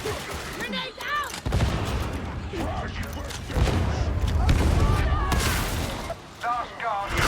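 Video game combat with a grenade going off and gunfire: heavy booms and rapid shots mixed with battle noise, a loud sustained stretch in the middle, with voices talking over parts of it.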